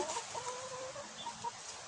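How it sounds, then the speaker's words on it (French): Hens eating grass cluck softly and repeatedly nearby, a continuous low chatter of short calls without any talking. "je vous présente mes poules qui mangent les herbes"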